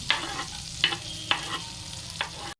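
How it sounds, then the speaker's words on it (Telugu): Vegetables with ginger and garlic fry in butter for momo filling, giving a soft steady sizzle broken by four sharp scraping clicks of a stirring utensil. "బటర్లో ఇవన్నీ కొంచెం ఫ్రై చేస్తాను అనమాట, వెజిటేబుల్స్ అన్నీ"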